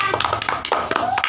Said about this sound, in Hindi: बस ताली बजा भाई सब लोग